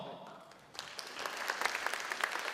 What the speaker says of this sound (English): Once again, our applause.